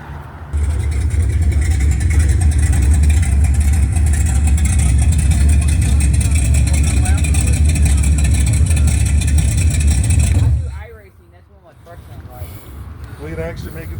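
A Tesla plays a loud, synthetic engine drone tied to the throttle, holding steady for about ten seconds before cutting out abruptly, leaving someone talking.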